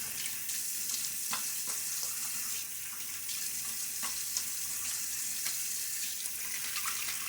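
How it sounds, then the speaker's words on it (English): Water runs steadily from a tap into a sink for a splash of cool water while shaving, a continuous close hiss with small splashes and drips scattered through it, no voices. "let's get a splash of water here"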